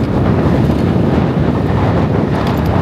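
Strong wind buffets the microphone on a motorbike ride in Sidrap, producing a loud, continuous low rumble and roar with no voices.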